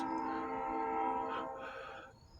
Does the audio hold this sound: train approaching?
yes